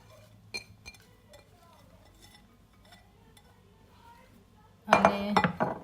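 Spinach sandwich filling is mixed in a large bowl. The quiet start has soft kitchen sounds and some low talk, then a sudden loud burst of utensils clinking and scraping against the bowl comes at the end.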